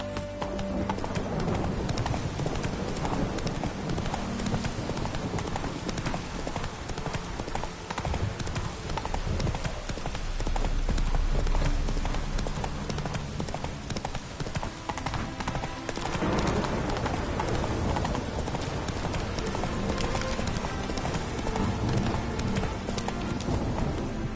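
The horse Roach trots along in The Witcher 3 on PS5, hooves clip-clopping in a steady rhythm, with an occasional snort or whinny over game background sounds.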